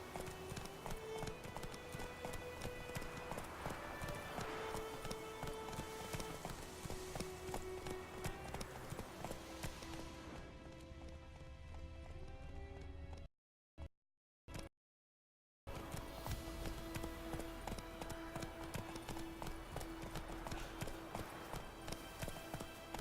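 Horse hooves beat out a steady galloping rhythm in a video game, continuous and fairly faint against ambient game sound, cutting out briefly before resuming.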